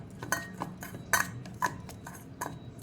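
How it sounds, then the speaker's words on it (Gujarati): A spoon clinks and scrapes against a metal bowl while mixing juvar dhani papad chivda ingredients, several sharp irregular taps close up. "હવે આ બધું આપણે મિક્સ કરી લેવાનું"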